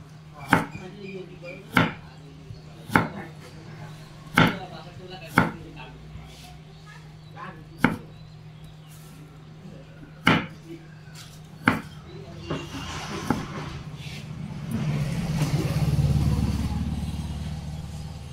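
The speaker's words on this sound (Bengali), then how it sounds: "একটু গাজরগুলোকেও মোটা মোটা করেই কেটে নিচ্ছি।" A knife cuts carrots into thick pieces on a board, about ten sharp, close chops at a fairly even pace, followed by a louder rumbling clatter at the end.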